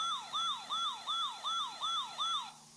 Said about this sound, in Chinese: 你这是救护车，哦咦哦咦